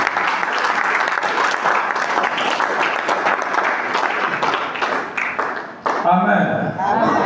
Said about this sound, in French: Acclamons très fort aussi.